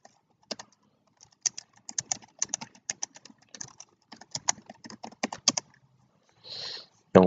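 Fingers type quickly on a computer keyboard, a close, dry patter of irregular key clicks in short runs, with a brief rustle near the end.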